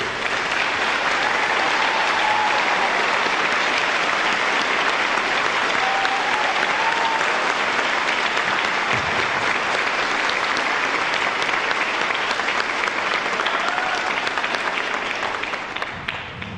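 A large audience at a physician assistant graduation ceremony applauds faculty, staff and medical directors in a sustained, dense clapping that holds steady for many seconds before tapering at the end.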